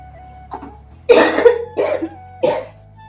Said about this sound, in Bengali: কাশি কি হয়েছে বুড়া মানুষের মতো কাশি